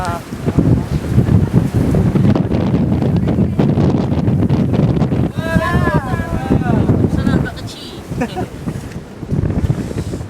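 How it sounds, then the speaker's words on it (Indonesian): Strong wind buffets the microphone with a heavy roar, and the surge of sea waves rolls underneath while people talk intermittently on Ujong Batee beach in Aceh. "Suara riuh daripada ombak-ombak di laut ini sangat menyejukkan"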